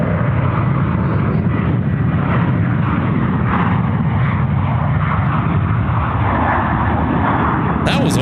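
Aircraft engine roar at Sydney Airport, a loud, steady broadband rumble that holds for the whole stretch as a plane flies past, with a brief sharp sound at the very end.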